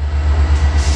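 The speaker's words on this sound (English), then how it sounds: "And here comes the freight train." A freight train rumbles past up close, a heavy, steady low roar with a faint rhythmic pulse throughout the short stretch.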